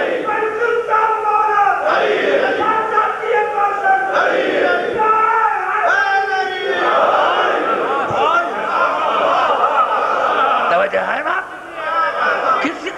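A dense crowd shouting and chanting slogans together in loud, rhythmic bursts, with overlapping voices and chatter throughout.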